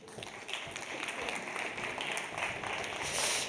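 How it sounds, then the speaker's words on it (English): Steady applause from an awards-ceremony crowd, dense clapping that holds at an even level for a few seconds and swells slightly near the end. "Please give her a round of applause."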